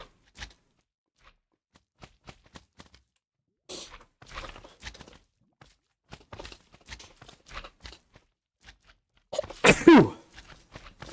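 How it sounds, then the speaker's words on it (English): A forceful sneeze bursts out loudly near the end after scattered small clicks and rustles, close and alone without talk. "Two strong sneezes."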